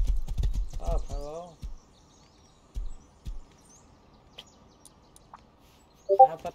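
Horse clip-clopping in short bursts, a few scattered hoof thuds with gaps of quiet between, alongside a voice and a brief bird-like chirp.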